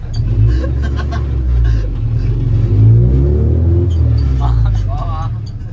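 A motorcycle engine rumbles and revs up close in short swells, with people talking over it.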